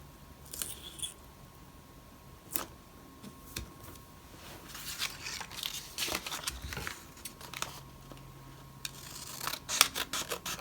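Scissors cut stickers for a paper planner, making a scattered series of close snips and crisp paper crinkles at an uneven pace, fairly quiet with no talking.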